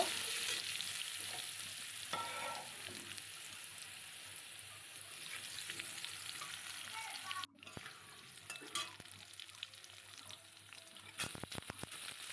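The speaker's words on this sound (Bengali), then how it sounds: "এবার আলুটা একটু ভালো করে নেড়ে নেব" Two medium-sized potatoes fry in a pan for a tangra fish jhal, giving a soft, continuous sizzle with occasional stirring scrapes, fairly quiet and steady, with a few sharper clatters near the end.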